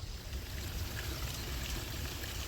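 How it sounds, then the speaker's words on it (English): Thin trickle of water spilling over a small park waterfall, a soft continuous wash heard from close by with no voices. "just behind me here, we have the waterfall, which doesn't really have that much water in it"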